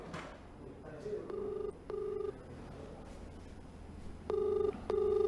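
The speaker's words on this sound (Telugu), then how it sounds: "ఎస్ఐ నెంబర్ రింగ్ అవుతుంది" A phone call to a police officer's number rings out, with a repeating ringback tone in short paired bursts over faint room noise and no answer.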